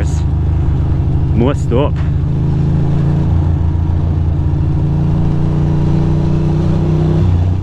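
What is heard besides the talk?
cars in city traffic heard while riding a Ducati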